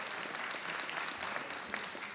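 Two audience members clapping at a memory choir showcase, a short burst of scattered, close handclaps lasting about two seconds, with no other sound over it.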